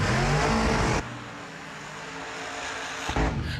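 A drag racing dragster engine roars loud and harsh for about a second, then cuts off abruptly, leaving a faint distant rumble before a brief final burst.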